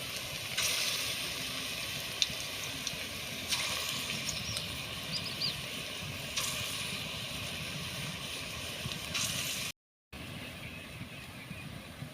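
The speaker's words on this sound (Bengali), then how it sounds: "মৌ ভেজে তুলে নিচ্ছে আর আমি তেলে ছেড়ে দিচ্ছি টপ টপ করে।" Banana fritter batter dropped into hot oil over low heat, giving a steady soft sizzle with gentle swells as new dollops hit the pan, quiet and continuous.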